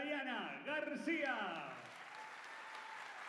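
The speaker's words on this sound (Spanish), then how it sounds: "Recibimos con un fuerte aplauso a Tayana García." An audience applauds to welcome the singer Tayana García at a 2023 singing-workshop showcase. A voice is heard at the start, then a steady broadband clapping swell carries on to the end.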